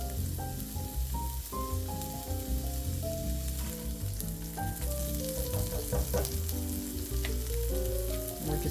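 Chopped onions frying in a skillet, a constant close sizzle with occasional stirring scrapes while music plays along underneath.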